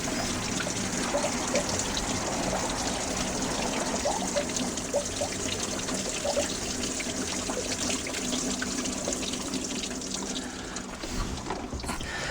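Pink antifreeze runs out of a 1976 Mercruiser 120hp boat engine in a steady, continuous trickle and splash. Close and fairly loud throughout, with no talking.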